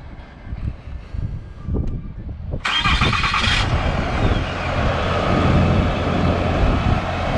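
A 2019 RAM 2500 Cummins diesel pickup engine cranks briefly, catches, and settles into a steady, fairly quiet idle.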